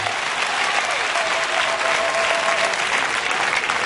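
A congregation at a religious ceremony applauds to acclaim the Lord, a steady, even wash of clapping from many hands throughout, sustained and fairly close with no break.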